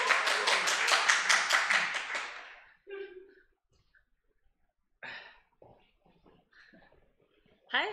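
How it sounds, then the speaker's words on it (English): An audience at a Ruby developer meetup claps for a speaker, a dense burst of hand claps lasting about two seconds that fades out. Scattered taps, breaths and low voices follow in a quiet room. "Give a big round of applause for Del."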